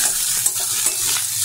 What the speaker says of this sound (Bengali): আমি মিডিয়াম ফ্লেমে রেখে ভালো করে ভাজা করে নিচ্ছি।